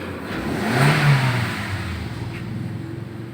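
A 2011 Toyota Avanza engine is briefly revved, rising in pitch for a moment then settling back to a low steady hum.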